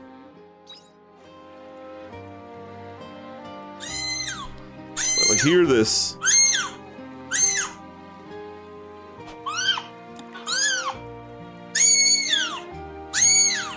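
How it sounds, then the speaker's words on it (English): Cats crying and meowing in short kitty videos played back, a series of loud, rising-and-falling wails repeated about eight times, with a voice speaking over the start. "Why am I looking at kitty videos, kitty shorts of the crying,"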